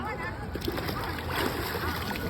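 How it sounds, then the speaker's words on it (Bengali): A person dunks into shallow river water at a crowded bathing spot, with a continuous churning splash and slosh while voices talk nearby over the water. "যত বন্যা আছে সবার জন্য একটা ডুব দিচ্ছি"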